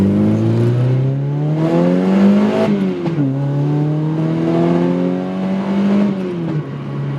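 A naturally aspirated 2.5L engine swapped into an NC Miata pulls hard under acceleration, its loud, steady note climbing in pitch, dipping briefly at two quick gear changes, then rising again.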